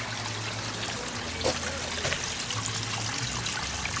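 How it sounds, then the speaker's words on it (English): Constantly running water trickling into a redfoot tortoise enclosure, a steady close, hissing dribble with no pauses, faint low hum and a soft bump underneath. "Constant running water always for the tortoises."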